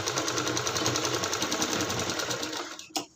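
Sewing machine running steadily while stitching a blouse seam, a fast continuous whirring rattle that carries on for about three seconds before stopping abruptly, with a small clunk at the end.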